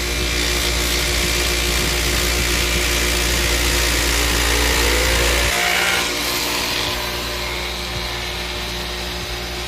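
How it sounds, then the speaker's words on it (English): A grinding wheel fitted with a polisher runs continuously against a gun part, a loud steady whirring hum that shifts pitch and eases slightly as it starts to spin down. "it's a grinding wheel, but it's got a polisher on it that I just do this with"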